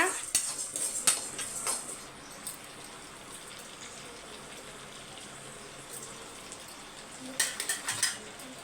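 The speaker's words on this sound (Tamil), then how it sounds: "பருப்பு வந்து பாதி தான் வறுபட்டிருக்கு நல்லா மனம் வர வரைக்கும் வறுத்து எடுத்துக்கோங்க" Dal lentils dry-roast in a pan with a faint, continuous rustle and crackle, broken by a few sharp metallic scrapes of a spoon against the pan near the start and end.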